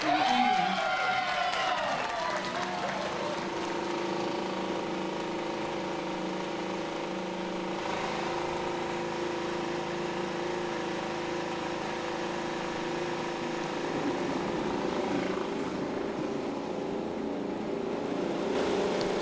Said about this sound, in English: So engines fire up, ready to roll.